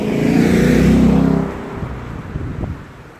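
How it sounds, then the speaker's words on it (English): A deep V8 stock exhaust on a 2016 Ford Mustang GT convertible rumbles loudly close by, swelling then dropping to a lumpy, burbling idle with uneven pops. "just listen to that, even though it has stock exhaust, still rumbles."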